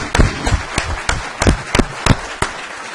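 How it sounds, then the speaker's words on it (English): A small group at a city council meeting gives sparse applause, about eight distinct sharp claps spread unevenly across a few seconds in a quiet room. "So I'd like to give him a round of applause, say thank you for his work he's done."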